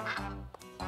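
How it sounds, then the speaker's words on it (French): Ducks quack in a cartoon, a short burst of two or three nasal calls heard faintly and close together. "Oh, des canards."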